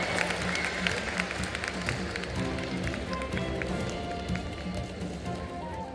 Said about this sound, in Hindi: जोरदार तालियां हो जाए अजय देवगन सर के लिए